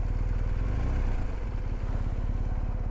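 A BMW R1250GS motorcycle engine idling steadily on a mountain trail, a close, even low throb with a regular pulsing beat, running alone without talk before it is switched off.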